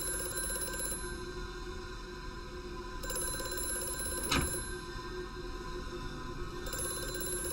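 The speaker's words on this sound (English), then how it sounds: "I should probably go get that phone" A telephone rings in the video game Amnesia: A Machine for Pigs, with repeated electronic rings in evenly spaced bursts that are fairly faint against a steady ambient drone, plus a brief click midway.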